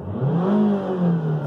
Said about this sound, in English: Now when it gets to about 3000 RPM, it just revs up like it's hitting a power band.